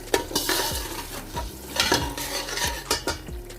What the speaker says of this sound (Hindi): और साथ ही हम इसमें गरम मसाला उसको भी ऐड कर देते हैं, और अच्छे से मिक्स कर लेते हैं।